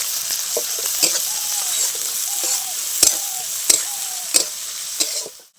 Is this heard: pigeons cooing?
no